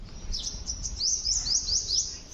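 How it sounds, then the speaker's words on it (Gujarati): Sparrows and other small birds chirping in a quick series of sharp tweets at a rural home in the morning, fairly close over a low, steady background hum. "સરસ પંખીઓના અવાજ."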